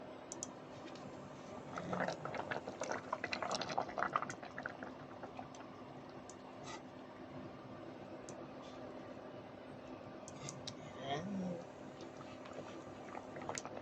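Sea bass pieces dropped into a pot of simmering sinigang broth, soft bubbling and a few faint splashes and clicks early on, then a steady low boil with light kitchen sounds.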